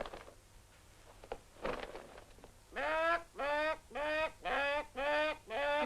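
Rooster in a 1971 Ossetian film giving five loud, evenly spaced squawking calls, preceded by quieter rustles and thumps.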